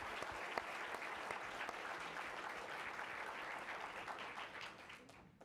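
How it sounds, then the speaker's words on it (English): Audience at a Three Minute Thesis championship event applauding donors, steady continuous clapping from a crowd, somewhat distant and even, tapering off at the end. "please, with a round of applause"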